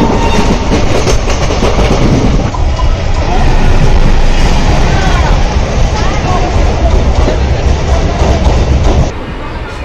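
A passenger train pulls in at Payradanga station: steady rolling clatter and rumble up close, with murmuring voices around, easing off sharply just before the end.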